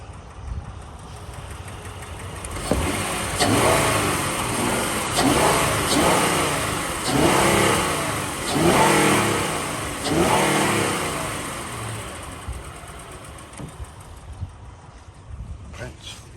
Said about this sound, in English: See if I can rev this up a little bit so you can hear it at a little higher RPM